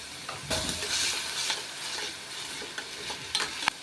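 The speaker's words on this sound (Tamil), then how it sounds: "கால் டீஸ்பூன் இஞ்சி பூண்டு பேஸ்ட் சேர்த்துக்கலாம்" Ginger garlic paste and onions are stir-fried in a pan, a soft continuous sizzle broken by a few sharp scrapes and clicks of the spatula, heard alone and fairly quiet.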